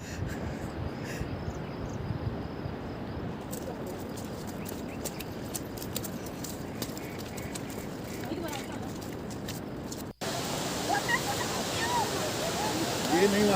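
A waterfall along the Kheerganga trek in Himachal Pradesh roars in a dense, continuous rush, with people talking over it nearby.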